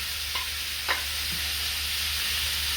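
Kofta and onion sizzle steadily in a pan, with a few brief scrapes of stirring close by. No one speaks.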